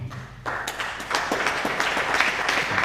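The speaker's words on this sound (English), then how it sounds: "A round of applause together with a standing ovation." A memorial audience gives a standing ovation, clapping swelling in after a brief quieter start into a full, sustained burst of many hands, close and lively, with no voices over it.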